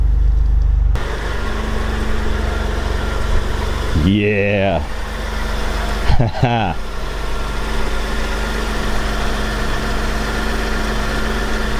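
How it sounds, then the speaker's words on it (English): A 1993 Mitsubishi 3000GT V6 idles steadily up close, a smooth continuous engine hum running through the whole stretch, with a brief spoken word and two short interruptions partway through. "V6 just purring."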